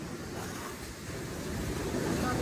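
Strong ocean waves at a beach in Bohol roll in as a steady, broad wash of surf, with wind buffeting the microphone throughout.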